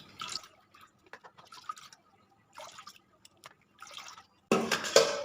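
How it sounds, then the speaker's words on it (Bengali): Soaked palm fruit pulp is squeezed out of water by hand, making quiet bursts of wet squishing and dripping with pauses between, then a louder, fuller splash at the end. "জল থেকে একটু চিপে চিপে তুলে নিতে হবে।"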